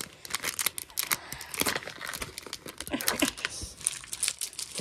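Trading cards, including a Max Kepler card, being tugged out of a tight plastic team bag from a mystery pack: close, busy crinkling and rustling of plastic with sharp crackles throughout, no voices.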